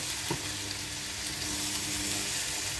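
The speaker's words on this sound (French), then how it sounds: "prenez l'habitude d'écouter votre cuisson" Food sizzles steadily in a hot pan, a constant close crackling hiss with a brief stir or clatter near the start, no voices.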